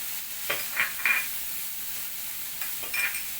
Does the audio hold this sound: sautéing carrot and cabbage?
yes